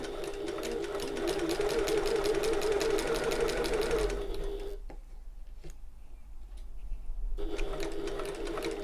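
A sewing machine runs fast and steady while stitching a shoulder bag, a rapid mechanical rattle, then stops for a few seconds before starting again for a final burst of back stitching.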